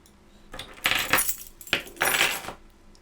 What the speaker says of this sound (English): I just put my door keys down on my desk.